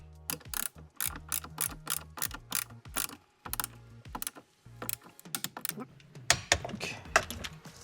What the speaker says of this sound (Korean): 이 복스대로 먼저 어느 정도 조여주시고 그 다음에 토크렌치를 이용해서 조여주도록 하겠습니다